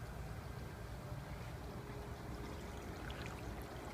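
Water rushes and trickles steadily through the drilled overflow of a 37-gallon tall reef tank fitted with a silencer, a constant close-up pouring wash with no speech.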